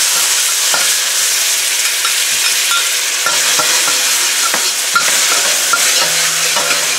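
Garlic frying in peanut oil in a wok, a loud, continuous bright sizzle with hiss filling the space, broken by a few faint clicks and scrapes nearby.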